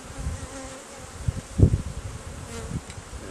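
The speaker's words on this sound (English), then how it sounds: "there was loads of bees in this gap, and most of them have left now" Honey bees buzz in and around an open hive, a close, continuous hum rising and falling as individual bees drone past, with a louder swell midway and no speech.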